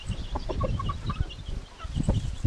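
Native chickens and roosters cluck on a farm, with short, scattered calls and soft murmurs close by, some sharper bursts rising over a low background of movement.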